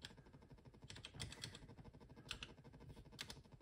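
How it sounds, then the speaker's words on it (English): Cursor keys on a COMX-35 home computer keyboard are tapped quietly in an uneven run of soft clicks, fairly close and with no voice over them. "So I'm using the cursor keys here."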